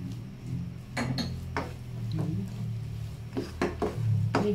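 A spoon clinks and scrapes against a pan while thick brownie batter is stirred, in a series of short, close knocks over a low background hum.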